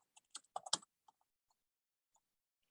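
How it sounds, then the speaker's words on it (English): A few quick keystrokes tap on a computer keyboard, a short burst of clustered clicks followed by scattered single taps, close and quiet with nothing else heard. "Now I'm going to type inside the text box."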